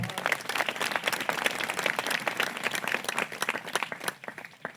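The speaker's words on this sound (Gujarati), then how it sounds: "તાળી પાડી તેને મહિમા આપીએ." A church congregation at a Christmas prayer festival claps together in a sustained, rhythmic burst of hand claps that fades near the end.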